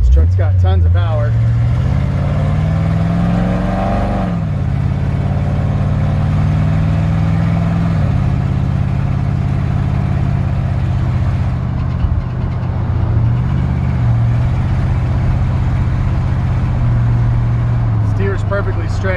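A 1955 Ford F100 pickup truck engine drones loudly while driving, its pitch rising and dropping through gear changes, with someone talking over it.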